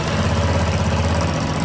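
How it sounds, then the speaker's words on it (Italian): A Honda Transalp motorcycle engine idles steadily in a workshop, a close, even low rumble with no break across the short stretch. "Rimane da accendere la moto"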